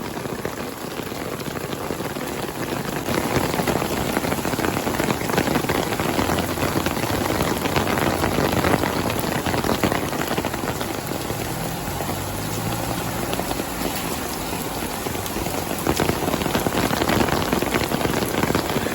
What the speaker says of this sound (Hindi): बहुत ज़्यादा तूफानी बारिश है